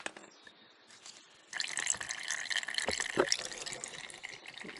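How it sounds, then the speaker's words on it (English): Motor oil draining from the engine of a Honda CRF250L motorcycle into a pan, a steady close pouring, trickling stream that starts abruptly partway through and continues without talk. "Make sure the pan is underneath, and I'm going to remove the bolt."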